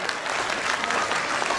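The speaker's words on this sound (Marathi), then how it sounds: "तर उपस्थित सर्व पालकांसाठी जोरदार टाळ्या वाजवायचे आहेत." An audience at a pre-school annual day gathering claps loudly for the parents, a dense, steady burst of many hands heard up close.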